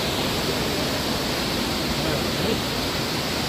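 Amboli Ghat waterfall roaring close by, a loud, unbroken rush of falling water filling the whole span without pause.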